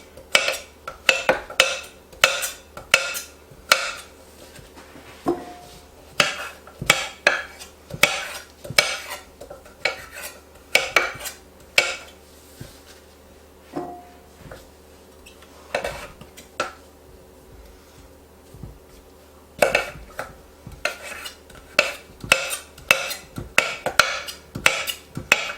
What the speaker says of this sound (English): all I want to do with this bottom part of the squash is to cube it